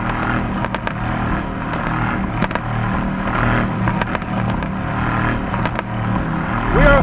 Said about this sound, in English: I love how this car pops.